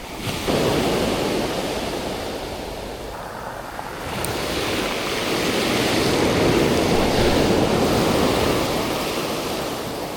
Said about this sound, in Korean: 오늘도 파도가 살짝 있고요